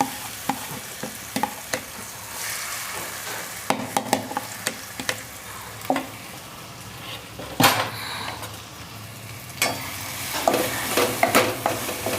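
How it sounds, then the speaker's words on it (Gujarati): A corn, carrot and beetroot mixture is stirred and roasted in a pan for paratha filling, with a soft sizzle underneath repeated scraping clinks of a spoon against the metal pan, close and irregular, with no talk. "તો હવે એને આપણે થોડાક શેકી લઈશું"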